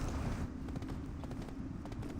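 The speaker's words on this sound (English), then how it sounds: "You actually slow down and let the horse go through here." Horse hooves clip-clopping at a slow walk in the video game Black Desert, a soft rhythmic patter of steps under a steady low rumble of game ambience, fairly faint.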